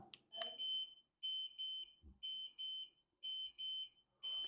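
A gas detector's low battery alarm chirps in repeated short beeps, about five bursts with brief gaps, fairly quiet, with a faint voice at the start.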